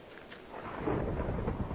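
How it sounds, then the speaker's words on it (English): Thunder rumbles during rain in the Minecraft video game, a low, broad roll that swells after the first second and holds steady over a wash of rainfall, with no voices. "Yeah, it is thundering"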